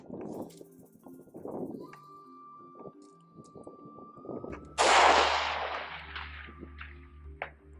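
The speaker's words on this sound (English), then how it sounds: "I'm just going to take a shot at 670 yards." A single sharp rifle shot rings out mid-clip, fired at a target 670 yards away, followed by a sustained rumbling decay after some quieter, scattered sounds.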